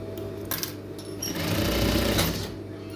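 An electric sewing machine running a long stitch, its steady whirring motor and rapid needle clatter loud and continuous for the whole stretch.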